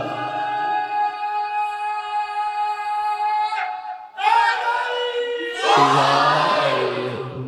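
Crowd at a Shia majlis for the 4th of Muharram, mosque gathering, chanting religious slogans in praise of Mola Ali: a sustained tonal chant gives way to a surge of massed voices rising loud and full toward the end.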